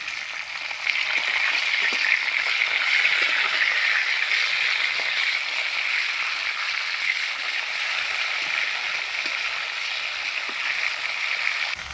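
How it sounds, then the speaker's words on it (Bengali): Pieces of stingray fish fry in a pan with a steady, dense sizzle that hisses evenly throughout, close and continuous with no talking. "অল্প অল্প করে ভেজে নেব।"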